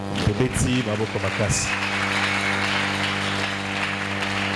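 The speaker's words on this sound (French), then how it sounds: "Nous acclamons très fort" A church congregation applauds and cheers during a French-language sermon, a brief burst of clapping and shouts over sustained organ or keyboard chords that continue droning after the applause fades.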